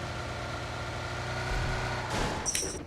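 A car engine in a team-based video game hums low and steady, with a short sharper burst of noise near the end; no voices are heard.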